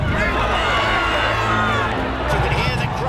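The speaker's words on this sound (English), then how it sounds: "You can hear the crowd roaring them on their way as they come to the water" A huge crowd roars and cheers steadily at the Aintree Grand National horse race, a loud continuous wall of massed voices with horses running near the water jump.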